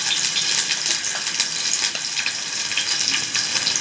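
Mustard seeds and a couple of garlic cloves fry in hot oil, giving a steady, close sizzle with scattered crackling pops that run without a break.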